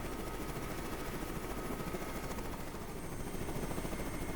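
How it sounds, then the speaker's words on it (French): A cartoon helicopter flies steadily with a continuous loud rotor and engine drone, filled with broadband noise and holding even throughout without voices. "ce matin, tu es pilote d'hélicoptère, Martin."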